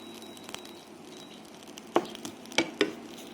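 Thai curry paste and chili dry-frying without oil in a pan over low heat give a faint, steady sizzle, with a few sharp stirring clicks near the end.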